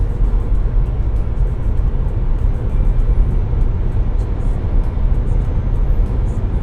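Nissan Leaf 2013 electric car pulling away under acceleration, its reduction gear giving a steady broadband drone with road and tyre rumble from inside the cabin, continuous and fairly loud with no talk.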